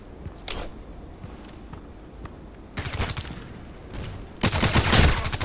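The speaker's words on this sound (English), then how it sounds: "I was shooting two times at his head" Gunfire in the online shooter Contract Wars: scattered single shots, then two dense bursts of rapid automatic fire, the last loud and sustained, with faint footsteps between.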